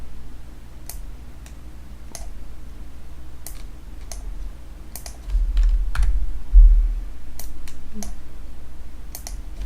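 A computer keyboard and mouse are used while working in a spreadsheet: sparse, crisp key taps and clicks spaced irregularly over a low steady hum, nearby and fairly quiet, with no speech.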